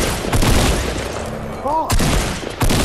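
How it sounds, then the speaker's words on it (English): Gunfire in the video game Fortnite, including pump shotgun blasts, with several loud sharp bursts spread across a few seconds and a player's voice heard over part of it. "There's somebody shooting at it."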